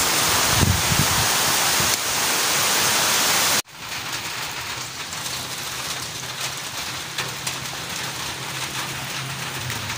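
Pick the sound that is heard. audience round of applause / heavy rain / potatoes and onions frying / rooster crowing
heavy rain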